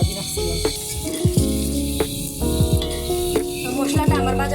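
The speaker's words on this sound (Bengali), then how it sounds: "মশলাটা আমার ভাজা হয়ে গেছে" Whole spices, cardamom, cinnamon and bay leaves, fry in hot oil for a beef curry, giving a loud, continuous sizzle punctuated by sharp metallic clanks and scrapes of a spoon stirring in the pan.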